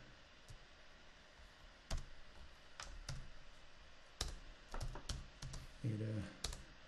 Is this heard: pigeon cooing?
no